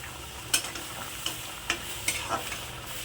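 A spice paste of cumin, coriander, chilli and turmeric powders and ground ginger, with a little water, frying in a pan for fish curry: soft steady sizzle, quiet and close, broken by a few sharp scrapes of stirring.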